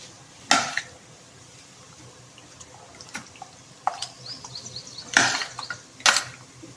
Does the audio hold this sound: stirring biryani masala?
yes